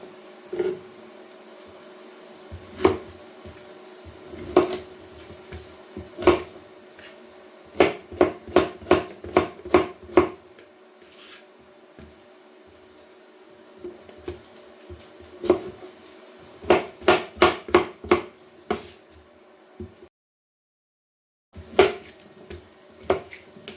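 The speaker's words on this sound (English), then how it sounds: "Then I'll slice these courgettes up." A knife slices courgettes on a chopping board, crisp clustered taps in quick rhythmic runs separated by short pauses, close and fairly quiet with no talking.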